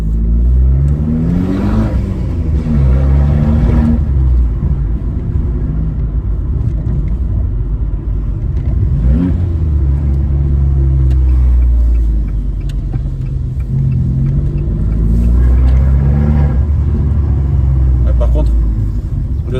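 An Abarth 595 Competizione 180 hp engine with open exhaust revs loudly and deeply several times, rising and falling in throaty bursts with a steady rumbling idle between them.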